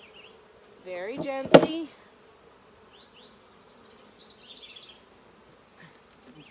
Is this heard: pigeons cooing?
no